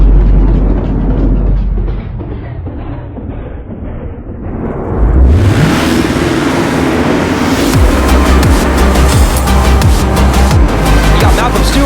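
At a Salt Lake City supercross main event, a field of 450-class motocross bikes roars loudly, engines surging and rising in pitch together after a brief lull, forming a dense, continuous wall of sound.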